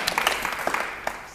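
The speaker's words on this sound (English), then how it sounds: "give Tony a round of applause for that one" Brief scattered clapping from a small studio audience on an antiques game show, a handful of distinct claps close together, fairly quiet and fading quickly.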